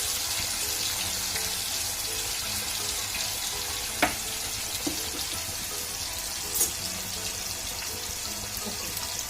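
Chicken pieces frying in a pan, a steady hissing sizzle throughout with a few small pops and crackles, no talking.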